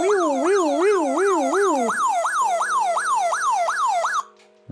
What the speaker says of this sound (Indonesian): dia punya suara alarm yang kenceng banget